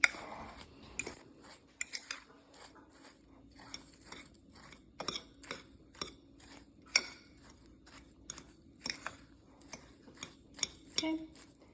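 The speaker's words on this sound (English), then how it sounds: "So I'm just gonna mix this a little bit as well" A spoon stirs dry Biscoff cake mix in a bowl, making a long run of light, irregular clinks and scrapes against the sides, quiet and close.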